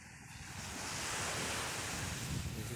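Ocean waves washing onto a hot sandy beach, a loud continuous rush of surf mixed with wind buffeting the microphone.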